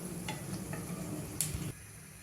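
Aloo tikki shallow fry in a pan with a faint crackling sizzle, broken by a few light ticks and one sharper scrape of a utensil near the end.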